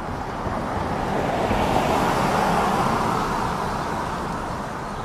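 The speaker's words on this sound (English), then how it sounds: "It was a car." A car passes by outdoors, a broad rushing road noise that swells to a peak mid-way and then slowly fades, fairly close, with no voices.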